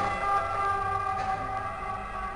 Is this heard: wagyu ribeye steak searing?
no